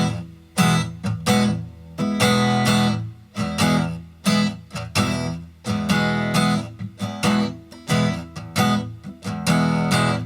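Guitar plays a beat with palm-muted percussive strumming and accented fingertip roll-ups, a loud, syncopated chugging pattern repeating steadily for several bars with no talking.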